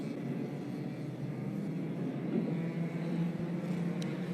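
Racing kart engines run on the grid at an OK-class heat in Campillos, a dense, continuous buzzing drone from several machines blending together at a moderate distance.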